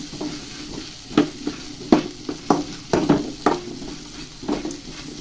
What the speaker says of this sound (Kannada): ಇವಾಗ ಚೆನ್ನಾಗಿ ಫ್ರೈ ಮಾಡ್ಕೋಬೇಕು ಸಣ್ಣ ಈರುಳ್ಳಿನ.